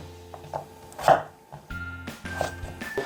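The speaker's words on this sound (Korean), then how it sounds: "이렇게 나머지 것도 이렇게 해서 깍두기 모양으로 이렇게 썰어 놓을게요." A knife chops kohlrabi into cubes for kkakdugi on a cutting board, several distinct close thuds spaced irregularly, along with faint clinks and soft scraping in a quiet kitchen.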